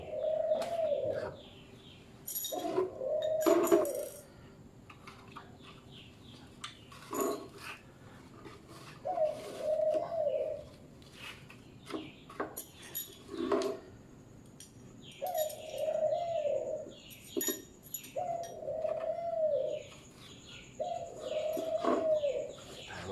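Decoy doves coo in repeated two-part phrases during a dove-trapping trip in Lat Bua Luang district, Thailand, with a few short chirps from other birds between the calls.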